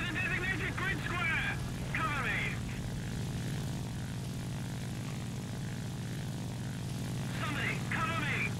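Steady drone of a propeller plane engine in War Thunder, a constant low hum underneath, while bursts of chirpy radio chatter or voices come and go on top.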